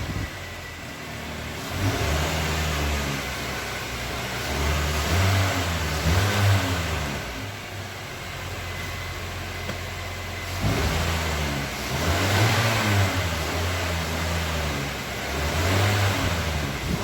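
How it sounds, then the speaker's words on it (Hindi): Car engine revving and pulling away, a loud mid-pitched motor rising and falling through several accelerations with no voices. "समीर गाड़ी चलाने लगता है"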